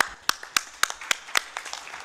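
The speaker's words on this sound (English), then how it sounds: "Give him a hand clap." Audience hand clapping at an international conference session, a short burst of scattered, uneven claps from a modest crowd, quieter and thinning toward the end.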